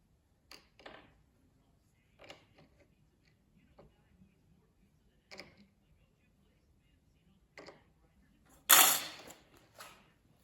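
A .25 calibre air rifle, an Umarex Gauntlet Gen2 or a JTS AirAcuda Max, fires sharp single shots a few seconds apart. The reports are crisp and near, with one louder, longer crack near the end over a quiet background.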